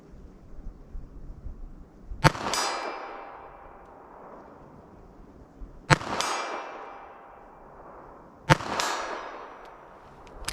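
Three sharp .32 ACP pistol shots ring out outdoors, spaced a few seconds apart, each a loud crack followed by a long, fading echo tail, with no talking.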